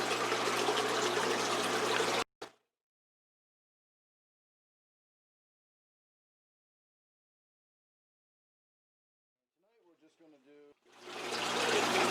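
Water gushes steadily into a gourami aquarium during a water change for about two seconds, cuts off abruptly into silence, and a voice speaks near the end.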